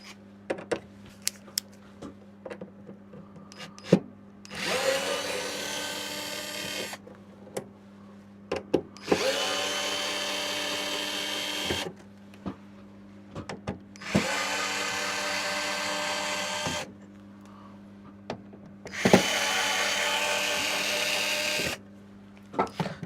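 A power screwdriver driving screws during an electronics repair, four separate whirring bursts of several seconds each, close and loud, with quiet gaps holding faint clicks and handling noises and a low steady hum beneath.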